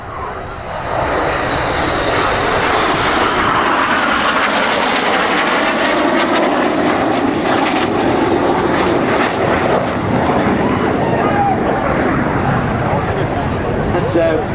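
Red Arrows jet aircraft performing at the Biggin Hill air show in 2007, a loud continuous roar of engines swelling and sweeping overhead for a sustained stretch, with a commentator's voice under the noise.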